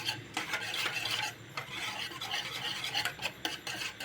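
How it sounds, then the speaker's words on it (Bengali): Cashew nuts being grated for malai kulfi in a home kitchen, a quick run of scratchy rasping strokes against the grater, close and fairly quiet with no talking. "আমি এখানে গ্রেট করা কাজু দেব।"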